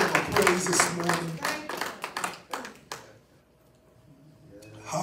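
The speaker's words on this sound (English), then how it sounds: "Can we just clap our hands for the Lord this afternoon?" Congregation clapping hands during a church worship service, a dense burst of overlapping claps with voices mixed in for about three seconds, then fading to a quiet room before a final swell.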